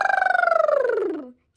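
A voice imitates an elephant trumpeting: one short, pulsing, nasal call that slides downward in pitch and fades out after about a second.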